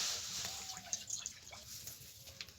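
Water is poured into a cooking pot on a lit stove, giving faint close splashing and dripping with small trickles over a low background hiss.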